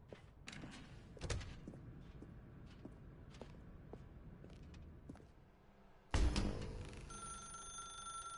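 A telephone starts ringing abruptly in the video game The Stanley Parable, loud and close after quiet footsteps and thuds, its electronic ring holding steady to the end.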